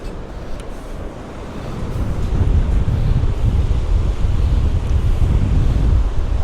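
Wind gusts hard across Embleton Beach in Northumberland, roaring and buffeting the microphone over a low, continuous wash of surf, growing louder after the first couple of seconds with no talk.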